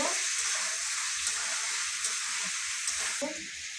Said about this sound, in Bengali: দিয়ে দেবো টমেটো, দিয়ে এবার ভালোভাবে নেড়ে নেড়ে নেব।